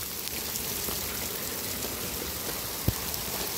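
Rain falls steadily outside a power house, a continuous hiss of drops on surfaces with a single sharp tap near the end.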